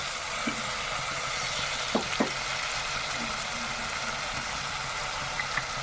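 Bay leaves and galangal sauté in a hot pan with a steady, even sizzle and hiss, broken by a few soft clicks and scrapes of stirring.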